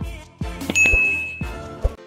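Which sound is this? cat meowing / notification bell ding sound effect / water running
notification bell ding sound effect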